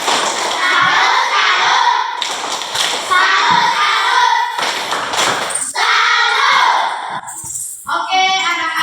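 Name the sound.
children doing a 'tepuk salut' clapping routine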